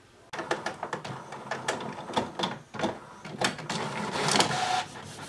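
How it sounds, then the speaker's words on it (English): A desktop printer feeds a sheet of deli paper and prints on it, giving a run of close mechanical whirs and clicks that build into a steadier, louder pass near the end. "So once it takes and sucks it up through the printer, it'll actually be printing on that side."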